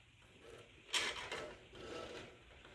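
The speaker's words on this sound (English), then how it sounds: "Wind it up, make sure it doesn't touch the sides." Rubber band on a 3D printed toy car being wound around the back axle by hand, a quiet, close run of ratcheting clicks and whirring with one brief louder burst near the start.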